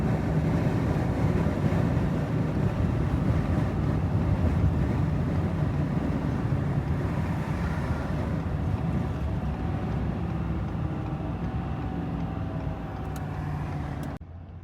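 A hotshot truck hauling cars drives along the road, giving off a steady low engine and road rumble with wind buffeting throughout, then cutting off abruptly at the end.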